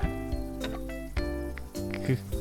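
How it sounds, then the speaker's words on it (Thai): A frying pan sizzles in the cooking video game Dine Together, a steady hiss laid over continuous tonal game music and sound effects, with no talking. "คือมีเสียงจีกระทะแล้วตอนเนี้ย"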